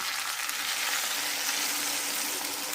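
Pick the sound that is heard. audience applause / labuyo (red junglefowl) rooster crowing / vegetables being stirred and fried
vegetables being stirred and fried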